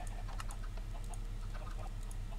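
Chickens in a Minecraft chicken farm cluck in soft, scattered bursts over a steady low background hum, several birds overlapping at a moderate distance with no talk.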